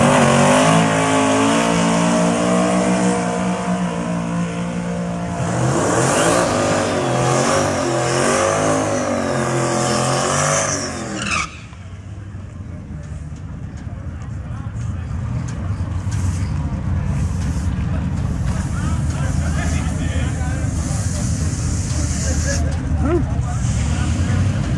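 Drag race cars launch in the small tire final at Tulsa Raceway Park, engines roaring and revving hard, then fading into a rumbling distance as crowd chatter and nearby voices carry over the track noise.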